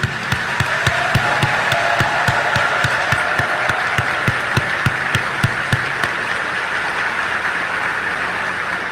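Rhythmic, steady clapping from a crowd, sharp evenly spaced claps over a dense bed of applause, loud and close, with no voices.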